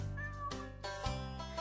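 Cat meows in the video game Bad Rats, a few drawn-out, close, fairly loud mews strung together with no talking over them.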